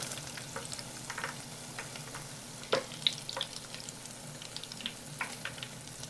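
Fish fillet sizzles steadily in hot oil, a dense crackling frying hiss with scattered pops and one sharper clatter near the middle, close and moderately loud, no voices.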